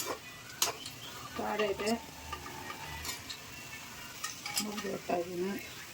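Cinnamon bark and whole spices for chicken biryani fry in hot oil, a soft steady sizzle with light clinks of a spoon against the pan while a person talks nearby.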